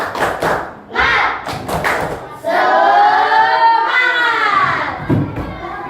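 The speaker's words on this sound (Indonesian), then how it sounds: "Tepuk semangat. Semangat, semangat." Schoolchildren in an Indonesian classroom perform the 'tepuk semangat' clapping chant: sharp rhythmic handclaps open the pattern, then young voices chant together loudly, with claps returning near the end.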